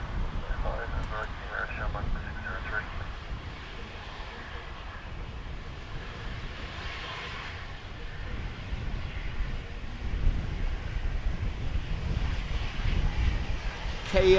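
A KLM airliner arrives at Dublin Airport, its engines giving a steady, broad roar that swells toward the end, with people talking over it.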